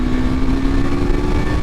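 A 2023 KTM Adventure 390 motorcycle's small single-cylinder engine runs loud and close, its steady drone rising slightly in pitch as it accelerates, with a brief upward sweep near the end.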